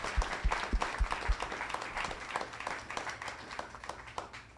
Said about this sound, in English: can we get a round of applause and thank you for their time tonight?